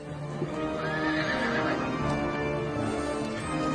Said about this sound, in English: Horses running through my house.